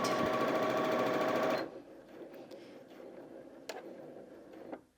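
A Janome Sewist 740DC sewing machine runs at full speed, roughly 820 stitches per minute, as a loud steady whirring buzz that stops sharply about a third of the way in, followed by quieter clicks and handling noises.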